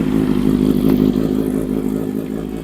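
A 2023 Honda CB650R inline-four motorcycle engine revs loud and close, a steady throaty roar with a few blips of throttle and a slight fade toward the end, with no voices over it.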